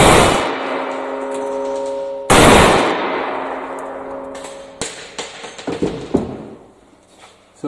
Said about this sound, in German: So, das waren jetzt zwei Schuss mit der Magnum-Patrone.